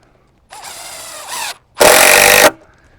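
An impact driver driving screws into a wood block on an off-grid clothes dryer build, two loud close bursts of whirring and hammering, the second louder and harsher.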